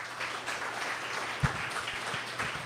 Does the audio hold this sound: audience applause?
yes